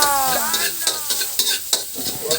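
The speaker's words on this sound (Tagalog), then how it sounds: "saka natin nilalagay yung hiniwa kong mga bawang at sibuyas" Sliced garlic and onions hit hot oil in a pan and sizzle loudly, a bright crackling hiss with a stirring utensil scraping and knocking at intervals, close up and without talk.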